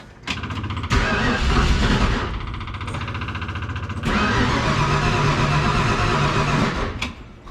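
An old engine idle for 40 years cranks and catches, then runs in a loud, rough, steady clatter that surges once midway before cutting out near the end.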